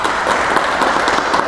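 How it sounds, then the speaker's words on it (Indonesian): Audience applause at a Ramadan health talk, a dense, loud, even patter of many hands clapping throughout the short burst. "tepuk tangan untuk mereka berdua"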